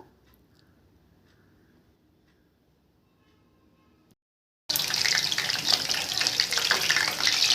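Battered prawns drop into hot oil for deep-frying, and after several seconds of near silence a loud, steady sizzle and bubbling starts at once and keeps going, close up.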